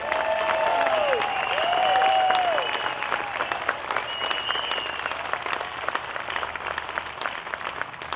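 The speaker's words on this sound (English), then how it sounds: "if you can give Jeff and Ed and Pete a big round of applause for me" Concert audience applauding loudly for a jazz quartet at an outdoor summer concert series, steady dense clapping with a few cheers and whistles throughout.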